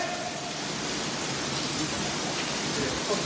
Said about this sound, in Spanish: vean cómo está lloviendo